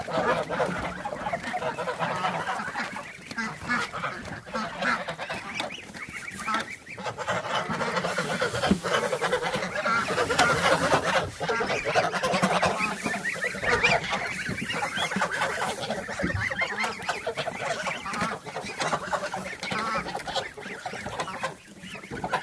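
Geese honking loudly and continuously in a farmyard, several birds calling over one another with overlapping nasal honks, chicken-like clucks mixed in, close and busy throughout.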